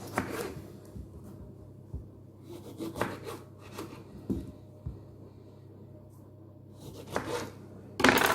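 A knife cuts limes in half on a board, giving scattered soft thuds and short rubbing cuts, fairly close, ending with a louder knock.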